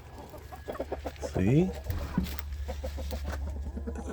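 Backyard hens cluck and chatter in short repeated bursts close to the microphone, with a louder squawk in the middle and a person speaking briefly.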